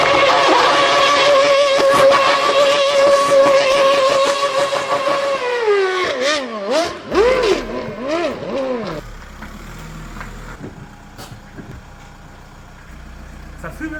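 A Volkswagen Golf doing a tire burnout in a car mechanic video game, its engine revving in repeated rising and falling sweeps after a steadier droning stretch, then settling into a lower rumble.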